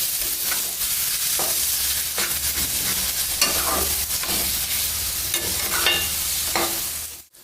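Brinjal pieces sauté with spices in a hot pan, a steady loud sizzle with scraping stirs throughout, close up and with no talking.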